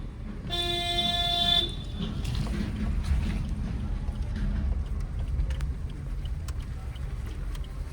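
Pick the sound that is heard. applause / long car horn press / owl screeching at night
long car horn press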